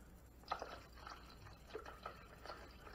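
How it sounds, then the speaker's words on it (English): Faint trickling and splashing of water being poured into a Cuisinart thermal coffee maker reservoir, soft and close, with small irregular drips and gurgles. "as I pour in the water, I'm watching how many cups I'm putting in"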